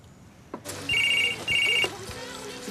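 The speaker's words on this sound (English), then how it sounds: "Audrey, phone." A landline telephone rings in a home, two bright electronic trills in quick succession after a clunk, heard close and clear.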